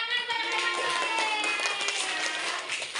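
Schoolchildren in an elementary maths class clap their hands together, a quick, busy patter of small claps blended with faint voices and room murmur.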